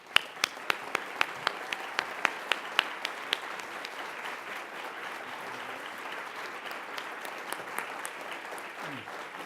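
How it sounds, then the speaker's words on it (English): Audience applause at a political journalism prize lecture and award ceremony, a steady wash of many hands clapping with a few sharp, close claps standing out early on, fading slightly toward the end without talk. "Thank you very much to all of you for that very generous applause."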